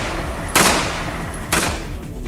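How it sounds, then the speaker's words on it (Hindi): Afghan soldiers firing on Taliban fighters, two loud broadband gunshot bursts about a second apart, each cracking sharply above a steady noisy background. "अफगानी सैनिक तालिबान के लड़ाकों पर गोलियां बरसाते दिखाई दिए"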